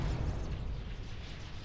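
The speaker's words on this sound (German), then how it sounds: "Und weg, der explodiert." A demon explodes in the video game Dragon Age: Origins, a loud, low rumbling blast that roars steadily and fills the whole brief moment with deep booming noise.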